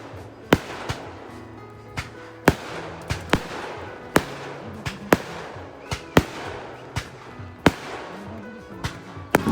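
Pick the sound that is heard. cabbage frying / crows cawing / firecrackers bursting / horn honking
firecrackers bursting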